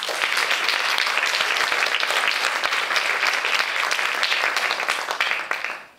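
A hall audience at an International Day of Women and Girls in Science ceremony claps in a thick, even wash of applause that holds steady for several seconds, then tapers off at the end.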